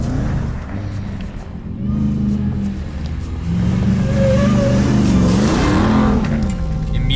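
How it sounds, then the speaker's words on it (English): A Ram 1500 TRX with a supercharged V8 pulls away off-road, its engine note rising and falling as it accelerates, loud and close with a deep growl. "Rams reinforcing you have a supercharged V8"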